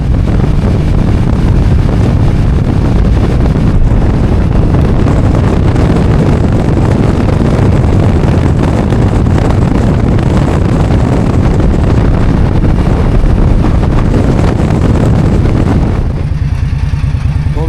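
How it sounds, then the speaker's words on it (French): A strong cold wind buffets the microphone while driving near Saltillo, a loud, constant roaring rush mixed with road and engine noise, easing slightly at the very end. "il fait un vent tout cassé, froid en plus"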